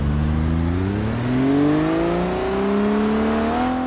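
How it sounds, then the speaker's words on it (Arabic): A car engine revs in the crash simulator BeamNG.drive, a loud, steady drone whose pitch climbs gradually and then holds, heard up close without any talk. "نسمع صوت الموتور الأول قبل ما يتدمر"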